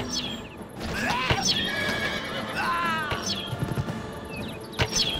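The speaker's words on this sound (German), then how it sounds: "Die scheiß Pferde sind auch krass" Horses in the video game Castle Strike neigh and whinny repeatedly over a busy battle din, several shrill calls overlapping with hoof clatter.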